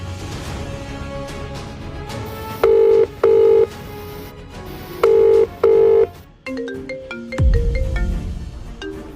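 A telephone being dialed to place a call: a series of tonal beeps followed by two paired bursts of a loud ringing tone, then more quick dial tones and a low thump at the end.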